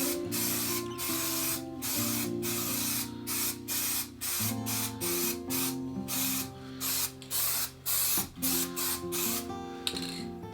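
Spray adhesive hissing from a can onto paper guitar templates and MDF in a workshop, a loud close broadband spray in repeated bursts with short gaps, over a steady tonal background hum.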